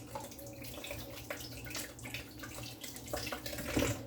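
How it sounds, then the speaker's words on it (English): Tap water runs steadily into a sink as vegetables for saltfish and pak choy are rinsed, with soft splashing and a few brief knocks near the end, close and moderately loud. "Make sure you wash your vegetables."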